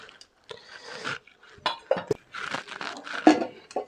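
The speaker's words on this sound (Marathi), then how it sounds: "तर मित्रांनो नॉनस्टिकी पॅन आपण घेतलेलं आहे" A nonstick pan is set out on the stove for frying hara bhara kababs, with short metallic clinks and clattering knocks at uneven intervals, close and moderately loud, between brief quiet gaps.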